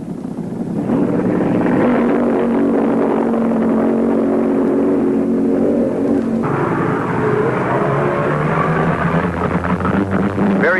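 Drag racing cars thunder past at the 1973 IHRA Northern Nationals in Muncie, Indiana, with Barry Setzer's Chevy Vega running through the traps against Al Hanna's Eastern Raider; a loud, sustained engine roar fills the whole stretch, shifting in pitch midway.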